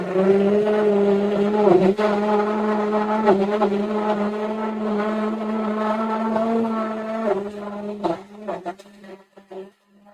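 A blender grinding lettuce for a smoothie, its motor a loud, steady whining drone that strains and chugs in places before cutting out in stuttering bursts near the end.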